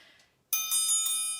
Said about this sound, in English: It makes that bell noise.